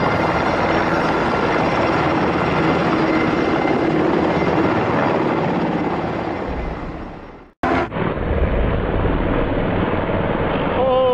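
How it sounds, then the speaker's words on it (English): Military helicopters fly overhead, a loud, steady rotor roar filling the air, dropping out abruptly for a moment before resuming just as strong. "Military helicopters conduct covert exercises over U.S. bank buildings."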